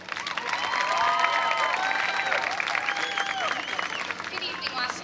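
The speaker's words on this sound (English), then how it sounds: "please give a round of applause for contestant number four, Carli Callahan" An audience at a 2018 homecoming pageant in Wauseon applauds as a contestant enters the stage. The clapping is steady and full, with cheering and whistles mixed in and voices audible underneath.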